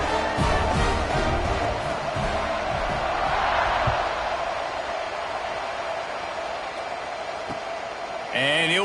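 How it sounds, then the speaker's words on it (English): Loud stadium crowd at an American football game buzzing steadily after a score, a broad continuous roar with cheering swells, heard beneath a play-by-play announcer's commentary. "this crowd is buzzing after that last score"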